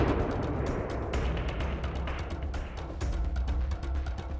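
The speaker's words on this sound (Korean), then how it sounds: "엄청난 폭발음과 함께 하늘로 솟구치는 연기" A few grams of sodium metal dropped into a water tank bursts in a series of sharp, loud cracking blasts over a dense, rumbling roar, with no voices.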